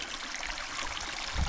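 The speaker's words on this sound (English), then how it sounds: "I found this cool little stream spot" A small creek in the mountains of Pine Valley, San Diego, trickles and splashes steadily close by, a continuous watery hiss with no voices.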